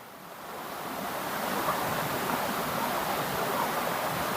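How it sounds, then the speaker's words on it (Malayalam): Roaring waterfall seen from a slippery rock ledge, a steady broad rush of falling water with a wind-buffeted, surf-like roar that swells slightly and then holds constant and fairly loud, with no voices. "കണ്ടോ വെള്ളച്ചാട്ടം?"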